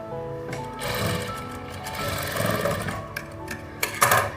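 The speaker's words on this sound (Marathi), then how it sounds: "1/2 इंचावर आपल्याला शिलाई मारायची." A sewing machine runs in a continuous whirring burst as it stitches blouse fabric, close and steady, ending with a few sharper mechanical clicks.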